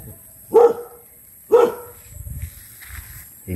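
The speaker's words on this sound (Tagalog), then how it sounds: "Ingay ng aso." A dog gives two loud, separate barks about a second apart, close by on a farm where pigs are kept, followed by quieter low rustling and faint background sounds.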